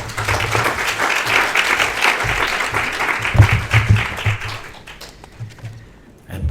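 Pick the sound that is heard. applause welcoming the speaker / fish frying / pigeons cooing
applause welcoming the speaker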